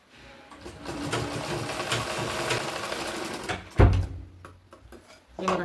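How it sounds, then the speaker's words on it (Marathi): A sewing machine stitches the side seams of a cloth bag in a steady, rapid mechanical chatter, then gives a heavy thump and slows before starting up again. "दोघं साईडने शिलाई मारून घेणार आहे."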